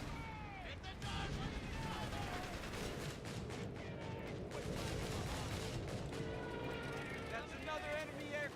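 Rapid bursts of in-game gunfire aimed at enemy aircraft pound away steadily through the whole stretch, with scattered explosive thuds and voices talking over the loud, dense shooting.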